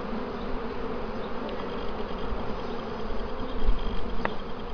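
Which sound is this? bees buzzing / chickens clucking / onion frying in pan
bees buzzing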